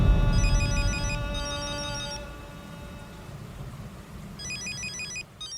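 A telephone rings in short repeating bursts, two trills, a pause, then another, over a steady background hiss like rain.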